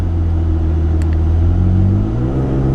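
A car with a Pedal Commander throttle controller surges forward in sport mode, a steady close engine rumble rising in pitch as it accelerates without pauses.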